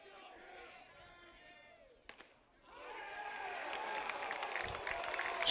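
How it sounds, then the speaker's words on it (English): Spectators at a high school varsity baseball championship game break into applause, building from a quiet murmur into a broad, steady wave of clapping and crowd noise that swells toward the end. "Applause on one side of the field and groans on the other"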